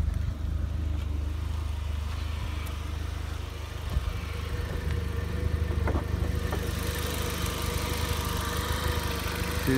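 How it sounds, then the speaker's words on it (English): An Audi TT Mk1 1.8 turbo 225bhp engine idles steadily with a low, even hum, close by and alone, with a few faint clicks partway through. "Engine."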